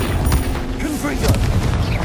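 A Confringo spell explosion in Hogwarts Legacy sounds as a loud, deep boom with rumbling blast noise lasting throughout, mixed with other game effects and a voice.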